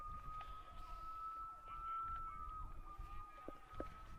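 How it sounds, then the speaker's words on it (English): A faint siren wails steadily in the distance during a baseball game, its tone sliding up and down beneath a low rumble of ambient noise. "But I can hear that siren."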